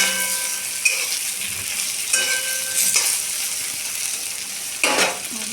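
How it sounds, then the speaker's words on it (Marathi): Stuffed masala okra (bharli bhendi) frying in a pan while being stirred, a loud steady sizzle broken by a few scraping strokes of the spoon, with no voices. "चाळून देऊ मध्ये, कारण जळायला नको तर"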